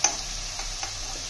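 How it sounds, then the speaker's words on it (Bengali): Onions sizzle in hot oil for egg curry, a steady close hiss with a few faint ticks and stirring clicks and no voices. "এদিকে ডিমের পেঁয়াজটাও ভাজা ভাজা হচ্ছে।"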